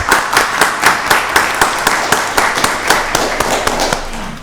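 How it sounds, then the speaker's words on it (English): Audience at a county board of commissioners meeting applauding a newly introduced director, with sharp individual claps in a loose steady rhythm, fairly close and moderately loud throughout. "Let's give him a round of applause."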